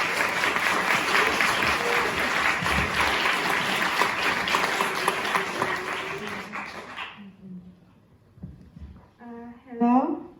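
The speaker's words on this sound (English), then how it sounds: "give a round of applause for MAPA." Audience applause at a climate justice event at COP, a dense, steady wash of clapping filling the first seven seconds before fading out, followed by a voice beginning to speak alone.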